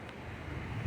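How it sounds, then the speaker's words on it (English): Steady wind from Hurricane Ian roars around a corrugated-steel-shuttered container home, a low, constant rumble against the microphone that swells at the very end. "It's pretty windy."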